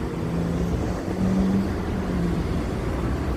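Steady city traffic rumble on Franklin Street in Chicago's Loop, a continuous low wash of passing cars and vehicles heard from the sidewalk at moderate distance, with no voices.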